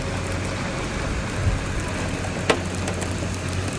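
Big raindrops fall steadily during an approaching multicell thunderstorm near Dixon, a constant wash of rain with a couple of sharper splats.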